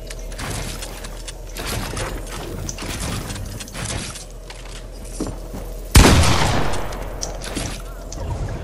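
Rapid bursts of Fortnite gunfire crackle through a video game match, with repeated shots clustered in volleys and a louder, heavier blast near the end standing out from the steady firing.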